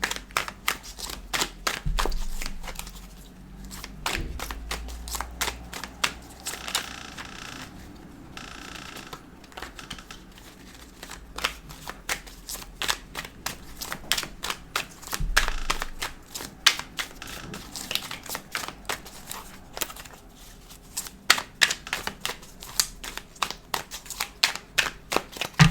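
Tarot cards are shuffled at close range in long riffling bursts, a dense run of rapid crisp flicks and slaps that pauses briefly and starts again, with no voices.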